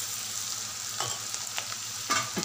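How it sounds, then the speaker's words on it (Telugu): Bitter gourd pieces fry in a pan with a constant close sizzle, broken by a few brief scraping stirs. "ఇలా కాకరకాయ ముక్కలు బాగా ఫ్రై అయ్యాక ఇప్పుడు 1/2 టీ స్పూన్ పసుపు వేసుకోవాలి"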